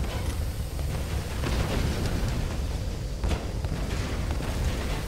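Bigger explosion in Tomb Raider, a sustained rumbling roar of blast and debris that stays loud and broad throughout, with a few sharper cracks breaking through.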